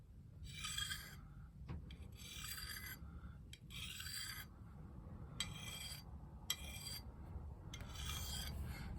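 A knife edge is drawn against a 1095 steel blade used like a sharpening steel, making six quiet, evenly spaced rasping strokes with short pauses between them.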